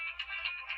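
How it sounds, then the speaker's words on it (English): A mobile phone ringtone sounding alone for under a second, a steady electronic ring with slight pulsing, fairly quiet and close. "Sorry about my phone going off."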